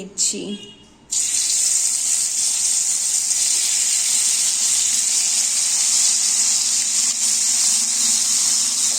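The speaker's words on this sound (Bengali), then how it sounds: "গরম সর্ষের তেলের মধ্যে মাখা মাছগুলো দিয়ে" Coated katla fish pieces dropped into hot mustard oil in a kadai: after a quiet second, a loud sudden burst of frying hiss rises and holds steady and close until the end.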